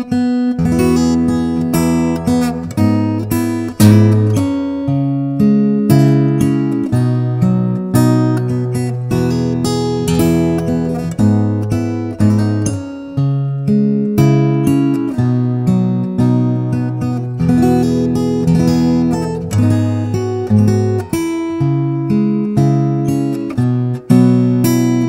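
A solo acoustic guitar plays the verse of a song as an instrumental, picking a bass note on every quarter-note beat under ringing chords in a steady, even pulse, close and clear with no voices.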